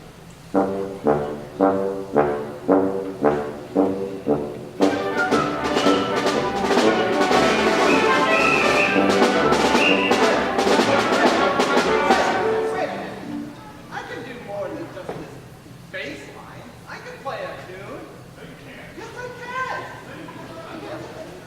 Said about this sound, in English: The tuba is very well known for its famous solo,